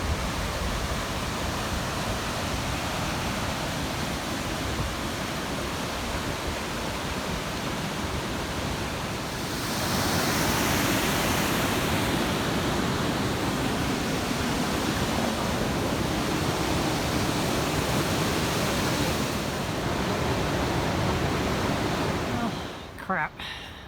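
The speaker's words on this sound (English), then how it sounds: "So this is the top end of the waterfall." Yosemite Falls rushing near its top, a continuous broad roar of falling water that swells louder midway and holds steady, with no other sounds over it.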